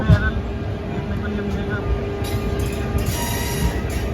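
The Kota Janshatabdi Express pulls out of a railway station with a steady rumble of wheels and carriages and faint squeals, continuous and close throughout.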